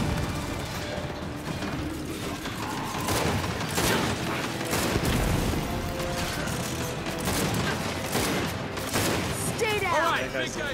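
Sustained gunfire from the Gears 5 video game battle, dense bursts and booms layered with game effects and voices calling out over the shooting.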